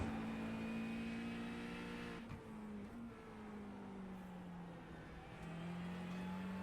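Simulated Ford Mustang GT3 race car engine at Road America in iRacing, a loud steady drone that holds a high pitch, dips briefly at two gear changes, then settles back into a sustained roar with no talking.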